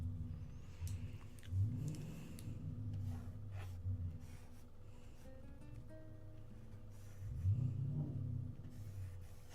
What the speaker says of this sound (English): there's someone revving their car outside and it's obnoxiously loud